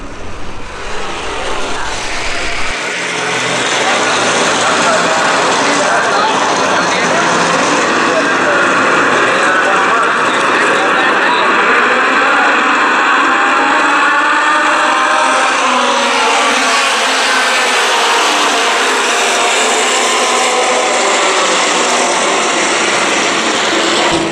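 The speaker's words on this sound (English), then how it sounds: "That was the start of the race from the stands, as you probably figured out, and I was starting 15th back in the pack." At the Sebring race start, heard from the stands, cars including a Ford GT40 build into a loud, continuous engine roar, with one engine sweeping past midway.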